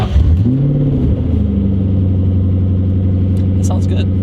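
A 1999 Mustang Cobra engine catches and settles into a loud, steady idle after a brief rising rev, rumbling close up with a faint click near the end.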